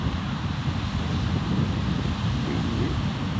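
Big ocean waves break on a sandbar at a beach, heard as a constant low roaring surf mixed with heavy wind noise on the microphone, steady throughout with no talking.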